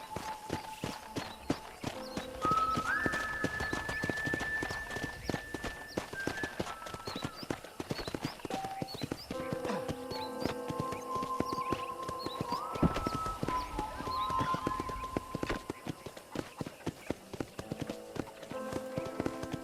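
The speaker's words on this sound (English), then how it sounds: "let's see if you can still ride a horse" Steady, rhythmic clip-clop of horse hooves on a hard surface in the video game Red Dead Redemption, continuous throughout, with faint tonal background sounds and occasional brief voices.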